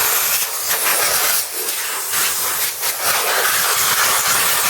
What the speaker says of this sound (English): we'll take a little air pressure here and we'll blow out